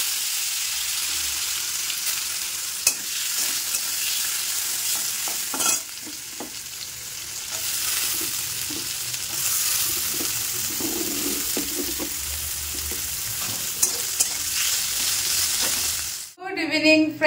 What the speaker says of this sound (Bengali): ঠিক আছে, আলুটা ভাজি। এখানে কড়াইতে তেল দিয়ে দিয়েছি